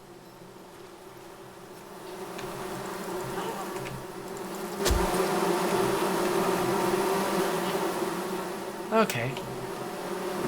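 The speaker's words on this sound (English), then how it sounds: "bees." Bees buzz in the video game Among Trees as a steady, droning hum that swells louder midway and holds, with a brief word spoken over it near the end.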